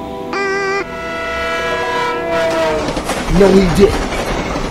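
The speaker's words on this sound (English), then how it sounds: "Is that a train?" A train horn sounds in the Friday Night Funkin rhythm game, held as a loud steady tone with clattering rail noise building underneath, while someone speaks briefly over it.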